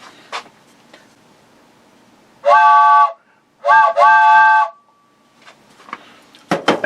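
A train whistle sound effect blows three times, one long blast followed by two more in quick succession, loud and tonal between softer clicks and faint noises.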